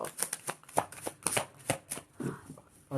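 Tarot cards shuffled by hand, a quick series of crisp riffling snaps and papery flutters in a steady uneven rhythm, close and fairly loud with no talk.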